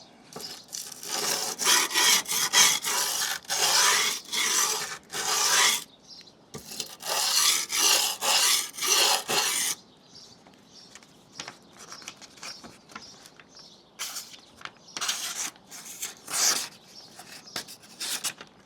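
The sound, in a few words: knife blade stroked on 120 grit sandpaper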